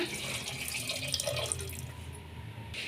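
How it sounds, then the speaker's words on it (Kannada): Water is poured into a pan of tempered raw mango dal for Andhra-style mango pappu, a steady close splashing stream lasting about three seconds. "ಈಗ ಸ್ವಲ್ಪ ನೀರು ಹಾಕ್ಕೊಳ್ಳೋಣ"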